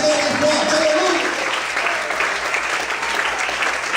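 A church congregation applauding during a sermon, dense, sustained clapping from a crowd close by and filling the room, with a faint voice underneath.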